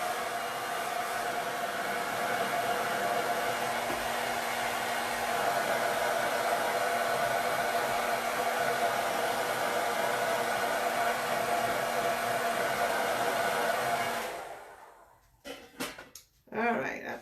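A heat tool blows steadily on ink printed on a small piece of ribbon, a continuous close whirring hiss that runs for about fourteen seconds before cutting off, leaving a few light handling knocks.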